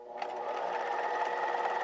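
A sewing machine stitches a lock stitch with a rapid, even mechanical chatter that starts abruptly and runs steadily up close, with no talking.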